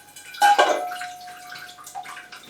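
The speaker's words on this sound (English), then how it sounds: "I've now spilt enough water onto the counter here, where I keep dripping, to actually run off the edge and drip on the floor" Spilled water drips off the edge of a kitchen counter onto a hardwood floor, a sharp close splash followed by a thin trickle and scattered small drips fading over a couple of seconds.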